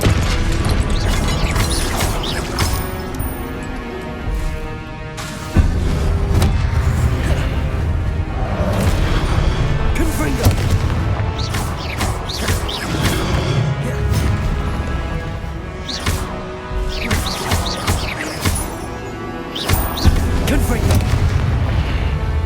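Confringo explosive spell blasts boom repeatedly in Hogwarts Legacy amid dense, loud combat noise, with heavy bursts and crashing impacts layered continuously and a voice calling out spells over the din.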